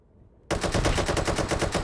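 An enemy fires suddenly in the virtual reality game Hot Dogs, Horseshoes & Hand Grenades. After a brief near-silence comes a loud, close, sustained burst of rapid automatic gunfire that continues to the end.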